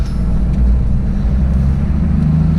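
A turbo 2H diesel in a Toyota Landcruiser HJ60 with an intercooler and a free-flowing exhaust drones loudly and steadily on a dyno, a close, heavy low rumble with no talk over it.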